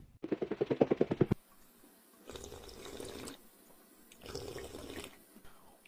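A Vizsla dog drinks water, lapping in a quick, even run of about a dozen close splashy laps, then two more loose bursts of slurping after short pauses.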